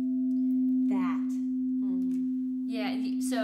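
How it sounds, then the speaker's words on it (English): A C singing bowl tuned to the root chakra rings with a steady, pure sustained tone, held throughout while brief noisier bursts rise over it at intervals. "this bowl, the C bowl, which is the root chakra, there's not one tone that comes out of these bowls"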